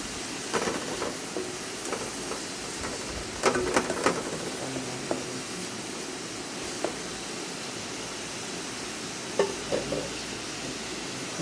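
Onion and pumpkin leaves sautéing in a pan give a soft, steady sizzle, with occasional scrapes and clinks of a spoon stirring against the pan.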